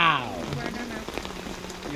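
Rain falls outdoors at a gathering of slingshot shooters, a dense patter under a brief tonal sound at the start.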